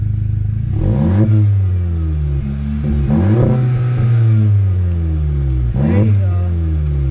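A Volkswagen Mk7.5 GTI with a newly installed exhaust revs hard three times, each rise in engine pitch followed by a fall back toward idle. The sound is close and loud, with a voice talking between revs.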